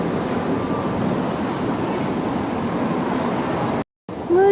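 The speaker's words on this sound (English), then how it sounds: "There's the TTC streetcar" Toronto TTC streetcar on Queen Street, a continuous low rumble of traffic and rail noise under a faint voice, cutting out briefly near the end before a squeal.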